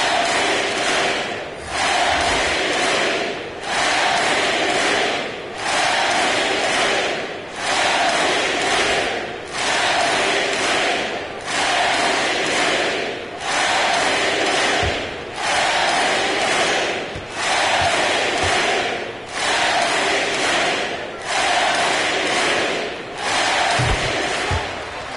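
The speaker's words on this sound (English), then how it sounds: "They got a big lift from their crowd tonight, giving them the energy they needed" Basketball arena crowd in NBA 2K22 during a Knicks vs. Lakers game, roaring in repeated surging waves that swell and dip about every two seconds, loud and sustained with occasional thumps.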